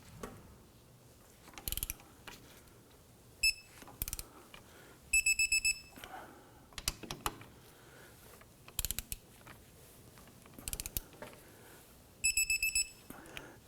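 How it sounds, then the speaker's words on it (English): A torque wrench tightens wheel hub bolts on a 2015-2020 Ford F-150 during a front wheel bearing and hub replacement, giving bursts of rapid ratcheting clicks and several sharp metallic clacks separated by quiet pauses. "let's go ahead and torque them down to 129 foot-pounds"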